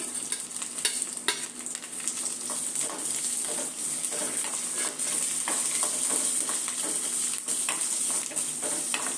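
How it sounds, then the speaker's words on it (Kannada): Fenugreek leaves, mint and coriander with other ingredients frying in a spoonful of oil for mushroom chops, a steady close sizzle with frequent spoon stirring and scraping throughout, no voices. "ಈಗ ಈ ಎಲ್ಲ ಪದಾರ್ಥನೂ ಹಾಕಿ ಎಣ್ಣೆಯಲ್ಲಿ ಫ್ರೈ ಮಾಡ್ಕೊಂಬಿಡೋಣ."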